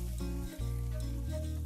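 Steady sizzling and frying of cooked lentils (ndengu) in a pot with a brief stirring scrape midway, close and continuous without talk.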